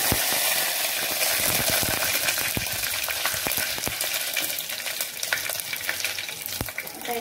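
Cumin seeds and curry leaves sizzle in hot oil for sambar, a loud, steady crackling hiss scattered with sharp pops and spits throughout.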